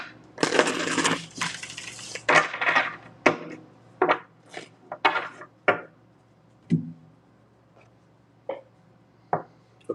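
Tarot cards are shuffled in a series of sharp, crisp riffles and taps. The bursts come quickly at first, then space out, and are heard close up with no talking.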